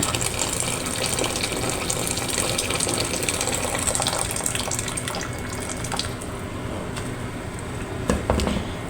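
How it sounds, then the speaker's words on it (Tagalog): About a liter of hot water pours steadily into a pot of Filipino chicken nilaga, a continuous close gushing splash that runs throughout with no talking. "Dadagdagan natin ng mga 1 liter of hot water."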